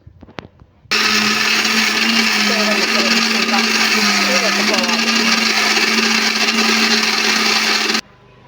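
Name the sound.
mixie grinder grinding idli batter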